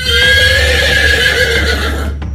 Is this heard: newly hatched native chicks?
no